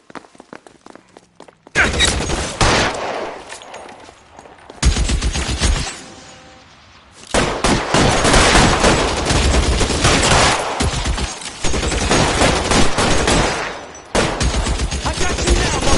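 Loud, dense bursts of gunfire from a shootout in the video game L.A. Noire, with rapid volleys in several long stretches broken by brief lulls, close and intense throughout.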